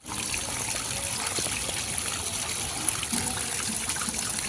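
Water from a rooftop tank pours and trickles steadily as a pan used for fish is washed, a constant, fairly close splashing stream with no voices.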